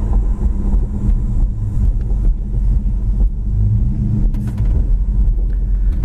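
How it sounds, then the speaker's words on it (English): A 1967 Plymouth Belvedere with a 727 automatic transmission drives along, its engine giving a steady low rumble with road noise and no voices. "A 727 transmission shifts nice."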